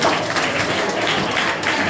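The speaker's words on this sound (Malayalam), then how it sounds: "വലിയൊരു കയ്യടി കൊടുത്ത് പ്രോത്സാഹിപ്പിക്കുക." An audience applauds a prize winner at a Sunday school annual celebration in a church, a steady, dense wash of clapping hands throughout.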